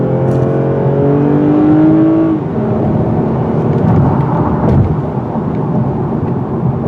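A 2020 Toyota Avalon TRD accelerating hard from a standstill, its engine note rising through rising harmonics, then a brief upshift dip and a rougher, louder pull, heard from inside the car with no talking.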